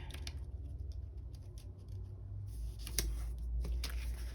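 Scissors trimming a paper sticker while planning a month-at-a-glance page: a few soft, close snips and paper rustles over a low background hum.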